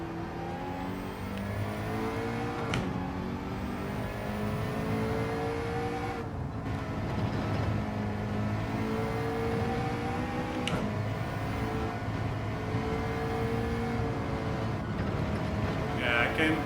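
Race car engine in Gran Turismo 7 droning steadily with shifting pitch as it brakes and accelerates through corners, continuous and loud throughout, with no talking.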